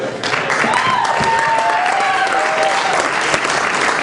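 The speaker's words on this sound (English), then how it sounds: "Keep the applause going." Party guests break into loud, sustained applause, a thick wall of clapping with faint cheers and whistles running through it, close and continuous throughout.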